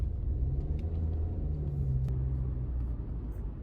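Car passing on a road, a low engine rumble and tire roar holding steady and close for several seconds before easing slightly, with no voices.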